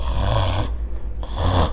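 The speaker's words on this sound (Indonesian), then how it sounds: "Ketika Mbak Nadine ini tahu, sadar kalau Mbak Nela ini udah ngorok," Two loud, close snores, each a rough rasping inhale, are separated by a short quiet gap, used as a sound effect in a narrated horror story about an old family house.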